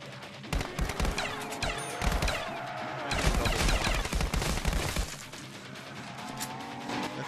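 Gunfire in the VR zombie game Contractors on an Oculus Quest 2, Pool Day map: rapid bursts of shots in quick clusters, loud and close, with brief pauses between volleys.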